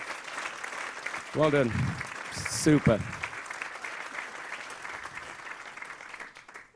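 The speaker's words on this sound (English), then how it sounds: "let the adults give you a big round of applause" A big round of applause from adults at an F1 in Schools national final awards event, steady crowd clapping throughout with a few brief voices speaking over it before it fades.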